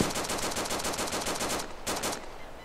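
Rapid automatic gunfire in the survival game DayZ, a steady rattling burst of evenly spaced shots, a short pause, then a brief final burst, fairly close and without talk.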